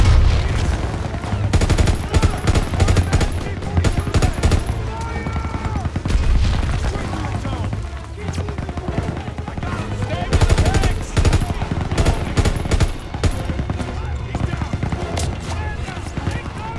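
Sustained gunfire in a Call of Duty WW2 battle aimed at an MG-42 machine-gun nest, loud and continuous with rapid bursts and booms across the whole stretch, mixed with voices calling out over the din.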